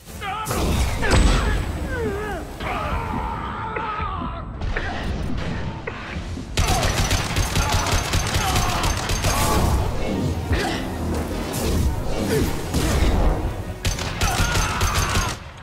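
Mass Effect 2 combat gunfire: dense bursts of shots, impacts and clattering mechanical effects layered over continuous loud game sound, with a brief shift partway through and no clear speech.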